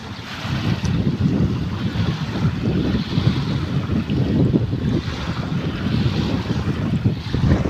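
Strong wind blusters across the mic at Dolomite Beach while waves wash in, a loud steady roar of gusts and surf with no voices heard.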